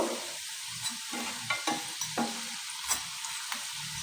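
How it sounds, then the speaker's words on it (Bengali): Fish roe fritters frying in oil, a steady close sizzle and hiss with scattered light clinks and pops as the pieces are turned, and no talk. "প্রত্যেকটা উল্টে পাল্টে দুদিকটা খুব ভালো করে ভেজে নেব"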